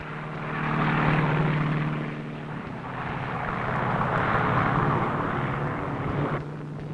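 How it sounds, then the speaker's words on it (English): Anti-submarine aircraft in flight, giving a steady propeller-engine drone with a low hum that swells and fades slightly across the clip, continuous and fairly close, with no voices. "Since first light, anti-submarine aircraft have been airborne."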